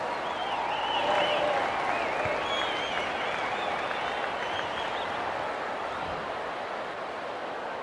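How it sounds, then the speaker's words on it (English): A stadium crowd applauds a try in a Wests Tigers versus South Sydney rugby league match, steady broad clapping and cheering that holds for several seconds with faint commentary beneath. "Everyone was up applauding that effort."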